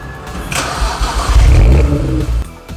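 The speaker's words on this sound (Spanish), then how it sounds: "La opción de Startup Roar es simplemente un ligero acelerón al dar arranque simulando un rugido." A turbocharged BMW's startup roar: the engine cranks, catches and gives a brief rev flare on start, loud and close, then settles toward idle.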